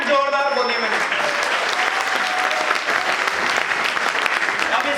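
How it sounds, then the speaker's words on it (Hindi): Loud, dense applause fills a hotel hall as a training seminar audience claps vigorously and without pause, with a voice briefly heard at the start. "जोरदार तालियां बजाओ"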